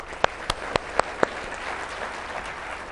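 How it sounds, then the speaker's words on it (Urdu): Audience applause at a televised talk-show discussion, opening with about five sharp, evenly spaced claps and then fading into a low crowd murmur. "ان کے لیے تالیاں."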